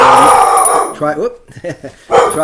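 A dog barks and growls loudly and close up, in several bursts with brief pauses between them.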